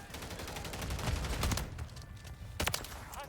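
Suppressed shotgun blasts from a Call of Duty campaign, a run of muffled booming shots with busy gunfire texture throughout, ending in a sharper burst of shots near the close.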